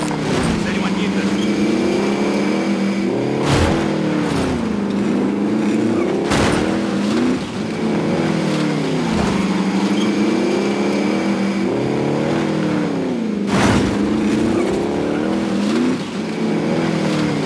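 Car in the video game Call of Duty Warzone driving hard, with a loud, continuous engine that revs up and down through gear shifts, and players talking over it.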